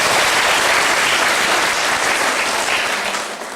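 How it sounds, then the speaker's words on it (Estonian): A crowd at a dance competition in Pärnu, Estonia applauds loudly, dense clapping sustained throughout before tapering off slightly at the end. "teeme veel kord neile sellele klubile suure aplausi"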